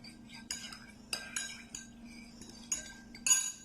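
A metal spoon stirs milk mixed with red syrup in a cup, making intermittent clinks and scrapes against the sides, close and fairly quiet, with no talking.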